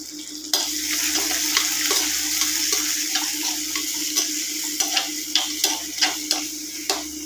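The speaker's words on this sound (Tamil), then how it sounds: "நல்லா பச்சை மிளகா, வரமிளகா, வெங்காய வடகம் இதெல்லாம் போட்டு தாளிக்கும் போது" Green chillies, red chillies and onion vadagam tempering in hot oil for sorakkai kadasal, a steady close sizzle broken by regular ticking stirs of a spoon against the pan, with no voices.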